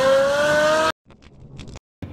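Pagani Zonda engine with special modifications for a distinctive sound, heard as a loud, steady high-pitched wail that cuts off abruptly, followed by quieter scattered noises and a short return.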